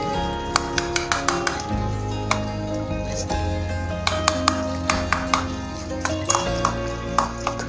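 Eggs are beaten in a bowl with red chili flakes and salt for a naan omelette. A utensil clinks repeatedly against the bowl in an uneven rhythm, close and fairly loud.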